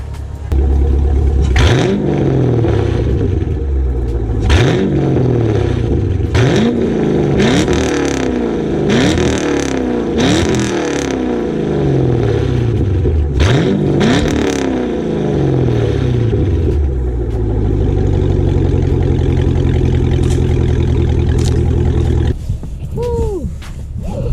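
A Chevrolet Camaro SS V8 engine revs repeatedly in sharp rising bursts, about a dozen throaty pulls close by, then settles into a rumbling idle before a final blip.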